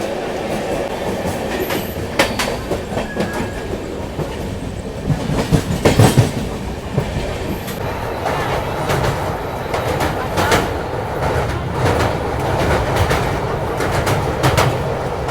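Maharashtra Sampark Kranti Express sleeper train running steadily after departing Surat station, a continuous loud rumble with rhythmic clickety-clack of wheels over rail joints and occasional metallic knocks, heard from inside the coach.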